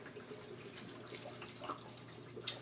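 Vegetable broth, about four cups from a carton, pours into a cooking pot as a steady close liquid splash and trickle with a few brief drips, heard alone.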